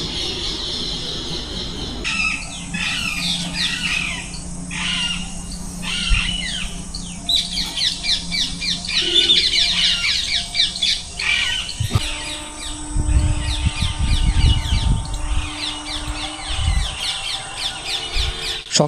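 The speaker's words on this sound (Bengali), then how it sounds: "সকালে ঘুম ভাঙলো পাখির ডাকে" Morning birds call around a heritage house in Madhupur, Jharkhand, with overlapping chirps, squeaks and twitters at moderate distance. A low rumble rises beneath the calls in the second half.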